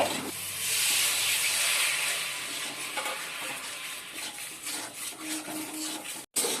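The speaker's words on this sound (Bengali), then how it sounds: "বাদ বাকি গুড়টা এই যে দিয়ে দিলাম কড়াইতে এবার দিয়ে দেবো একটু জল" Water poured onto hot melted jaggery in a wok gives a loud, broad hiss of steam and sizzling that starts abruptly and then slowly settles, with faint stirring and a brief cut near the end.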